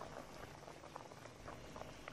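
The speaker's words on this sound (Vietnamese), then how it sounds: "Đây là cái nồi thịt mình kho được 1 tiếng rưỡi rồi đó các bạn." A pot of Vietnamese braised pork, simmered for an hour and a half, bubbles quietly and steadily with soft, irregular pops and blips of thickened liquid, heard alone with no voices.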